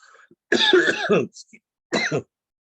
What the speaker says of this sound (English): that cough it is so persistent